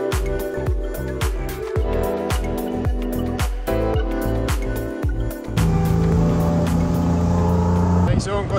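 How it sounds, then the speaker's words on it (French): A tuk-tuk ride in Bangkok, Thailand, carries a loud rhythmic engine that pulses and chugs, then settles into a steady higher drone near the end. Street traffic noise surrounds it. "Premier tuk-tuk qu'on prend en Thaïlande en 3 mois ici."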